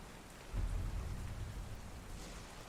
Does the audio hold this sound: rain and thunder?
yes